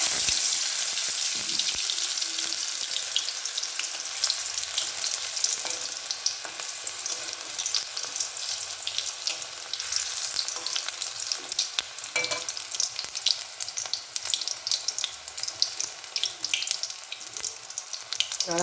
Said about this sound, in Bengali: বেসনে এরমভাবে ডোবাবো, ডুবিয়ে এটা এবার তেলের মধ্যে ছাড়বো।